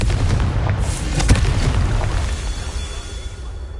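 A Confringo spell explodes in the Hogwarts Legacy video game: a loud, deep boom with a short crackling burst, over a continuous low game rumble.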